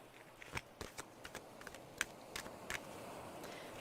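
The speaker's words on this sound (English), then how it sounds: "I like the way it shuffles." A Halloween tarot deck being shuffled close by in a quiet room, a run of soft, crisp card riffles and taps spaced irregularly.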